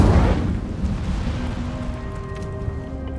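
An Incendio fire spell in Hogwarts Legacy bursts with a loud, low whoosh at the start, then a rumbling burn fades under a faint, steady tonal hum.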